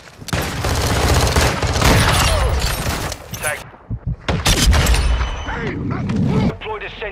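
Rapid automatic gunfire bursts from the Modern Warfare 2 game, loud and dense through most of the stretch with brief gaps, mixed with mechanical clatter and game voice callouts.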